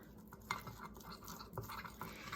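Faint scraping and clinking as salmon seasoning and pepper are stirred together in a bowl, quiet irregular strokes with a couple of sharper taps, no talk.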